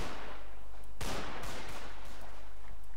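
Musket volleys in a Mount and Blade Anglo-Zulu mod battle, a sharp loud blast near the start followed by scattered crackling shots and continuous battlefield noise.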